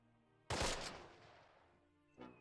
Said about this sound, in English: Okay, I think now we start firing.